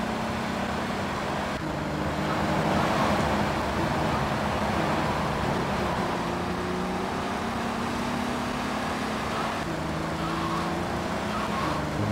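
Engine of a floaty-handling car in GTA III running steadily and loud, its pitch rising and falling with throttle changes, close and continuous throughout with no voices.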